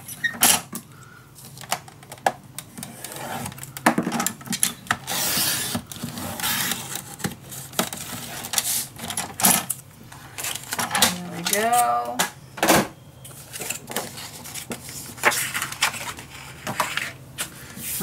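Paper for a steampunk dos-a-dos mini album is folded and cut, with close scraping, snipping and tapping in irregular bursts and a brief squeak midway, alongside someone speaking.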